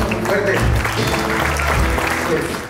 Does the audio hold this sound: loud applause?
yes